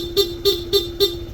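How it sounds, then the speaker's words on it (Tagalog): Stock horn on a Honda ADV160 scooter sounds four short, evenly spaced honks, loud and close, with no other sound around it. "pag bumusina, stock horn tutunog"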